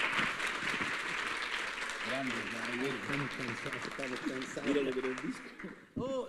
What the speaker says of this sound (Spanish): quiero despedir con un aplauso para Ignacio,